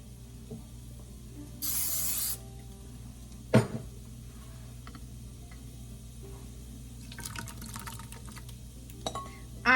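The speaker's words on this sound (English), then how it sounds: "I'm going to spray this pan." A short hissing burst of cooking spray, about half a second long, followed later by clinks and light kitchen clatter in a quiet room.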